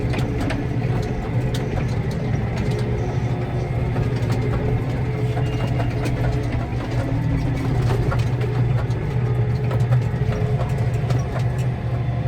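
A Massey Ferguson 6480 tractor engine drones steadily during stubble cultivation in a field, a heavy low hum with rattling and clatter over it, continuous and close for the whole stretch, no speech.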